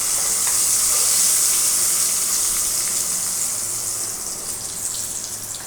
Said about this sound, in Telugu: ఉల్లిపాయలు బాగా వేగిన తర్వాత పోపు వేసేసుకుందాము